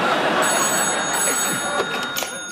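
A telephone rings steadily indoors in a sitcom scene, its electronic bell-like trill loud and continuous throughout with no one speaking over it.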